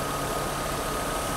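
A Mercedes-Benz W124 300CE engine idles in a short, steady stretch, a smooth, even hum with a fine, light texture and no voices over it.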